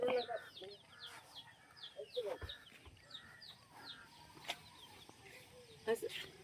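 Chickens cluck and chirp intermittently nearby while a person talks faintly in the background, with a few knocks and clatters.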